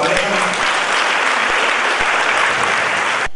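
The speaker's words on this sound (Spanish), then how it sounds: "Denme un aplauso, por favor, a esta pareja." Wedding guests applaud the newly married couple at the ceremony, a loud, even wash of clapping from the whole crowd that stops abruptly at the end.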